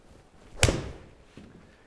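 A single crisp club-on-ball smack as a golf ball is driven into a practice net, then a soft muffled thump a moment later in an otherwise quiet setting.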